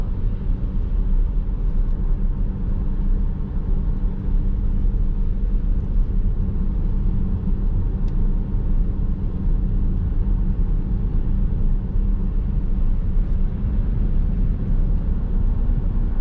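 A Tesla on a mountain road gives a steady, continuous low rumble of road and engine-bay noise as it eases off and then gently picks up speed, with no voices.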